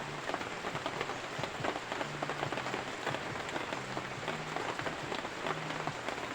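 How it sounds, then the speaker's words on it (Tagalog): Rain falling on a farm, a dense, steady patter of drops on surfaces with a continuous hiss, loud and close throughout, with faint low tones in the background. "Sa totoo lang, ang hirap ng ganito kapag umuulan talaga dito sa bukid."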